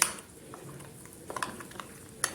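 A spoon stirs cabbage soup mixture in a pot, with a few scattered scrapes and clinks against the metal, quiet and close, with no talking.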